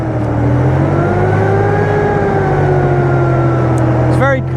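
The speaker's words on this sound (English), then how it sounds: "So this is the first movement of the AMX13 this season. It's quite loud." AMX13 light tank starting to move at a UK military show, a loud steady engine roar with rising and falling pitch, close by, with a brief squealing burst near the end.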